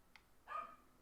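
A single short, faint dog bark aimed at a cat, preceded by a tiny click and heard at a distance against a quiet room background.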